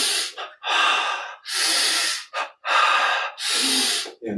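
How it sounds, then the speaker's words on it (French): Deep, forceful breaths of a yoga breathing exercise, close and loud, in a steady rhythm of long airy inhales and exhales, each lasting about a second, with brief gaps between them and no speech. "On se sert de ces mouvements simples pour respirer profondément"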